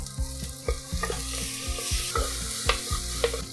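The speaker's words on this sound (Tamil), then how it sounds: "வெங்காயம் ஒரு 1 நிமிஷம் நல்லா வதங்கியிருக்கு. இதில் அடுத்து தக்காளி சேர்க்குறேன்." Onions and tomatoes sauté in a pan for a mushroom and green peas kurma, a steady close sizzle broken by repeated scraping strokes of a spatula against the pan.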